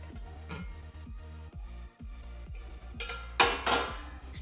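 Oil-fried amla slices being added to a pickle in a metal pot, heard as a series of close clinks and scrapes from a spoon against the vessel, ending in louder clattering, with no voices.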